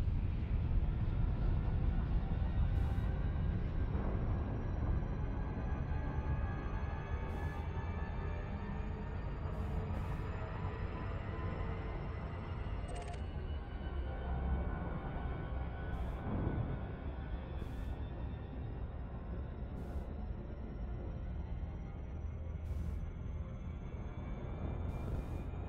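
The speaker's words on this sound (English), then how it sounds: "if you have headphones on when flying here, you can hear the jet cone" A steady low engine hum from a spacecraft's jet cone in flight in Elite: Dangerous, continuous and full for the whole stretch, with a faint high tone slowly rising and brief clicks scattered over it.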